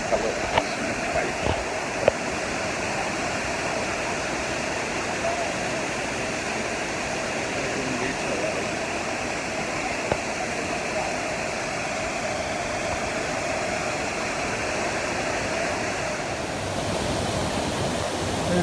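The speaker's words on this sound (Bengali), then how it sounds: "এটা ফলসের জলটা এখান দিয়ে বয়ে যাচ্ছে।" Water from a waterfall in Telkoi wildlife sanctuary in Keonjhar, Odisha flows steadily in a broad, even rush, with a few faint clicks and no other sounds over it.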